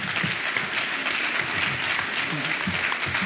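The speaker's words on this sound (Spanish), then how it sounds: "Y un fuerte aplauso por la colaboración de Polo con nosotros." Dense, steady applause from an audience at a talk on spirituality, a continuous wash of many hands clapping at even loudness throughout, with faint murmuring voices underneath.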